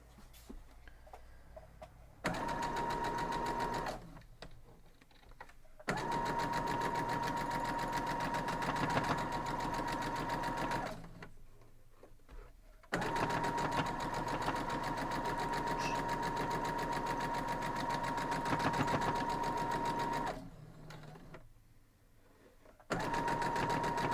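A sewing machine stitches the many seams of an antique tiles quilt block with a steady, close mechanical whir, running in long stretches broken by short pauses, no talking.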